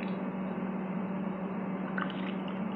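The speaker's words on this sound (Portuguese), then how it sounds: "Vamos colocar água aqui dentro" Water poured into a paleta ice-pop mold to loosen the frozen pops, a steady continuous rush of liquid, close and fairly loud throughout with no talking.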